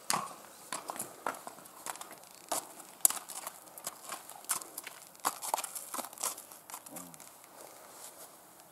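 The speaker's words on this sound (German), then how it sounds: "Pferde sind immer neugierig." Horses walking along a moorland hiking trail in the Bavarian Forest, hooves clip-clopping in an irregular, fairly quiet patter of steps with faint rustling between them.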